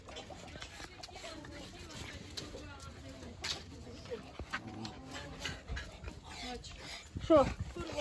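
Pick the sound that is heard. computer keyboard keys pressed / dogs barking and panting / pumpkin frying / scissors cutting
dogs barking and panting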